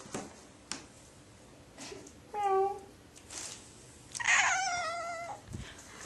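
A cat in an outdoor garden gives two meows, a short one followed by a longer drawn-out yowl, fairly close against a quiet background with a few faint clicks.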